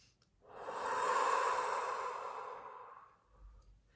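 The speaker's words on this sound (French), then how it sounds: "je t'invite à respirer profondément." One slow, deep breath is drawn in and then let out in a long, soft exhale, close and quiet, followed by a faint low rumble near the end.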